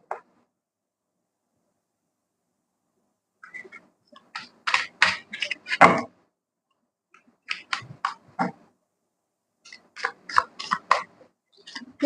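Tarot cards being shuffled by hand, bursts of crisp rapid riffling and flicking separated by silent pauses, close and dry, with no voice.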